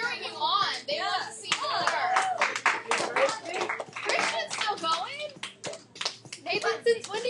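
A classroom of students claps and cheers for dancers during an algebra class, with a dense, steady stretch of hand clapping mixed with excited children's voices and shouts running throughout.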